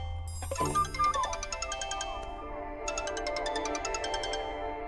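A phone ringtone plays a bright, repeating electronic melody, fairly close and clear, with no talking over it.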